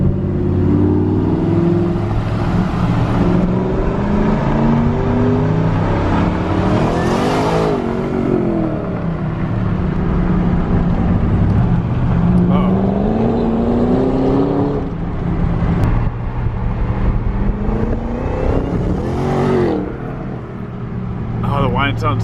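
A Shelby GT500 fitted with a Corsa Extreme axle-back exhaust drones and revs close by, engine pitch sweeping up and down through several throttle blips while people talk over the loud, continuous motor.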